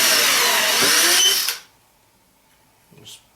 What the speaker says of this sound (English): I'll go ahead and drill these down.